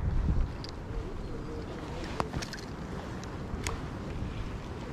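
Gusty wind of mid 20s to 30s buffets the microphone on a lakeside bank where crappie fishing goes on, a constant broadband rush with soft thumps and faint ticks.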